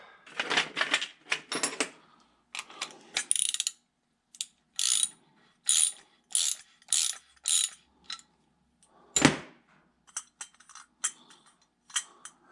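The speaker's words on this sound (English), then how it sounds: "Where'd my ratchet go?" Ratchet clicking in repeated short bursts while tightening the carburetor on a John Deere B tractor engine during a rebuild, close and clear with brief pauses between strokes and no talk.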